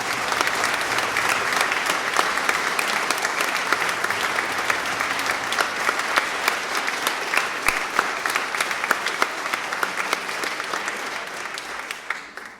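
Sustained applause from a large audience inside a church during a festival concert evening, dense and steady throughout, with sharp individual claps standing out before it thins slightly at the very end.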